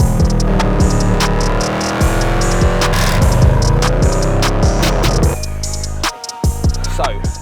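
An Urban XRS Land Rover Defender with a V8 engine rumbles loudly through its exhaust, a deep, close, continuous throbbing drone with brief revs and clicks before it cuts lower near the end.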